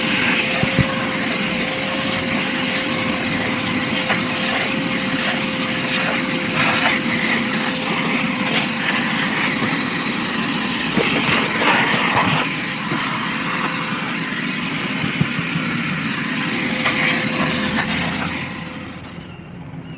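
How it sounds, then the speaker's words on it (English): A leaf blower runs loud and close for about twenty seconds, a steady roaring whoosh with shifting airflow and scattered rattles, easing off slightly at the end. "Because I'm gonna take a leaf blower to it."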